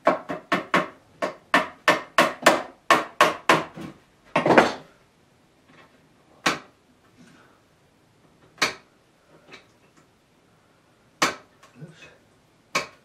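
Two rapid runs of crisp, close hammer taps drive fixings into the frame of an oil-on-board painting. A heavier knock follows, then sparse single taps spread across the rest of the clip, with little else heard.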